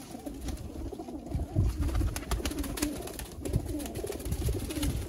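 Pigeons for sale in Sialkot coo repeatedly in soft, throaty murmurs, several birds overlapping close by with rustling in the background and no talking.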